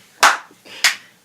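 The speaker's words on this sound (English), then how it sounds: "Everybody, clap your hands." Two separate hand claps ring out close by, spaced about half a second apart, each crisp and sharp with a quick decay in a quiet room.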